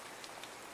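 Steady rain falls with an even, dense patter, faint and continuous with no voices.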